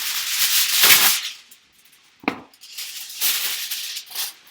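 Heavy-duty aluminum foil crinkles and scrapes as it is pressed tightly around a cooking pan for brisket, in close, uneven bursts of rustling separated by short pauses.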